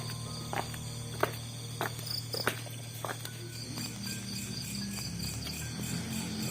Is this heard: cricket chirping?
yes